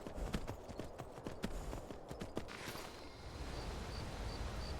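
A horse's hooves clip-clop in the video game Skyrim VR. The footfalls come as a quick run of hits on ground that then fade out, all quiet under a faint ambient hiss.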